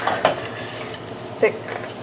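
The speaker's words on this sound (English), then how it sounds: "I'm going to add my lentils, mix those up" Lentils being stirred into a pot of oil-free vegan chili, with two distinct scraping clinks of a spoon against the pot over a steady soft bubbling background, close and fairly quiet.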